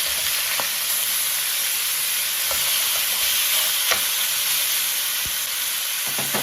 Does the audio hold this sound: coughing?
no